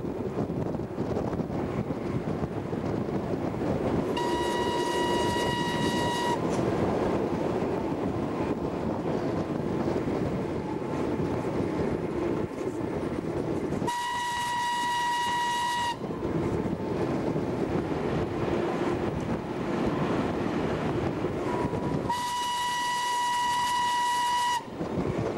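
An E 626 electric locomotive hauls a train over Slovenian tracks between Opicina and Postumia. A continuous rolling rumble is broken by three sustained horn blasts spaced several seconds apart.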